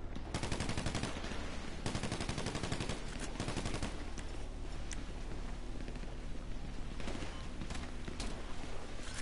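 Rapid automatic gunfire from the video game GTA 5, dense and loud bursts of shots filling the whole span with brief lulls between volleys.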